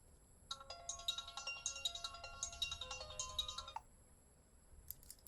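A phone ringtone plays a quick, bright repeating electronic melody for about three seconds, then stops, followed by a short faint chirp.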